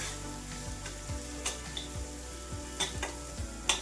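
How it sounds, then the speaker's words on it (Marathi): Chili and peanut paste fries in a pan over medium heat for fenugreek-leaf stir-fry, a quiet steady sizzle broken by occasional spatula scrapes and small pops. "आता आपण हे वाटण 2 मिनिटांसाठी छान परतून घेणार आहे आणि फोडणी अशी छान खमंग द्यायची आहे"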